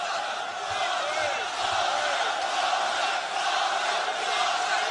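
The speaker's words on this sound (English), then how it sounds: "The crowd are going absolutely wild" Crowd at a kickboxing fight roaring steadily and loudly, a dense continuous wall of cheering voices that holds at the same level throughout.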